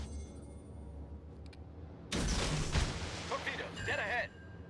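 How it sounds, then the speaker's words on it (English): A torpedo strikes the cruiser Pensacola in World of Warships, fired from a Mahan destroyer: a sudden loud explosive roar bursts in midway and rumbles for about two seconds over quieter game ambience. "There's another nice torpedo hit on the Pensacola of all things"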